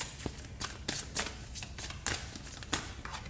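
Tarot cards are shuffled by hand in a quick series of crisp riffling bursts, close and fairly soft, with faint background murmur.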